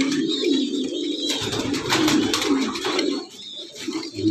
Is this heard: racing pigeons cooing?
yes